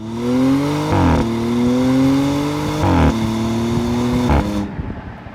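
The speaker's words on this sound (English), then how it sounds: "this is what it sounds like when the car is moving" An Audi S6 car engine drones steadily while driving, rising in pitch through the gears with three brief shift dips, loud and close.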